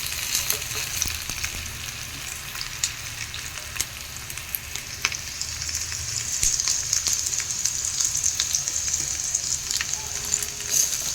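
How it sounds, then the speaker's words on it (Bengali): Onion and cut potatoes fry in a pan with a continuous close crackling sizzle, steady and even throughout with small pops and no talking. "আলুটাও ভাজবো ভালো করে"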